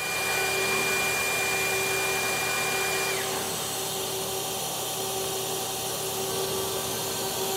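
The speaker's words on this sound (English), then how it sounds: "That's 3000 RPM on the live tooling." Live tooling on a CNC lathe with a 12-position turret, spinning at 3000 RPM; a steady, loud high whine and hum holds throughout, shifting slightly in pitch partway through, with no talking.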